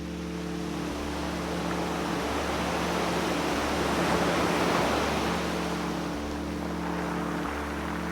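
Sea surf washing onto a sunny beach, a steady broadband rush of breaking foam with soft low swells rising and falling, continuous and fairly close, with no voices.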